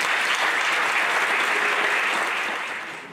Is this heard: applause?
yes